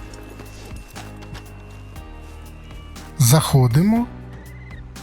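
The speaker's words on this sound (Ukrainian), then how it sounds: "Підводимо коня" A horse in the Western video game Red Dead whinnies loudly in a short burst, with hoof clip-clops and movement around it, while someone speaks briefly over it.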